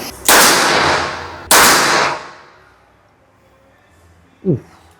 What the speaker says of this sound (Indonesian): Tembakan kedua nitik ya.